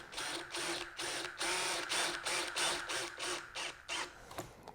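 Cordless drill set to low torque driving screws into a soft MDF shaker cabinet door, a close, quiet whirring in short repeated bursts separated by brief pauses.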